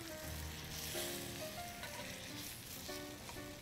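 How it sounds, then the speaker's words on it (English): Pork chops browning in a hot skillet for smothered pork chops, a steady close sizzle of frying fat running throughout, fairly quiet and continuous with no talking. "Let them brown nicely on that first side"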